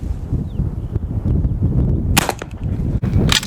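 A Burgess Light carbine rifle fires outdoors, two sharp, loud cracks about a second apart, each a sudden near report over low background noise.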